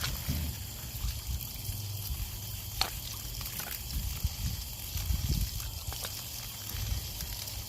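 Water from a hose runs steadily as sprinkler valve parts are rinsed outdoors, a soft, continuous splashing trickle with a few small clicks and knocks of the parts, fairly faint and close.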